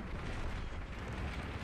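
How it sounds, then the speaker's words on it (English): Heavy military cannon fire in a video game, heard as a loud, sustained booming roar with deep rumble that fills the whole moment without a break. "Heavy military cannon."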